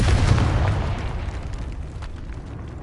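A Confringo fire spell explodes in Hogwarts Legacy, a loud rumbling blast with deep low-end boom that rolls on and slowly decays over about three seconds, with no voices.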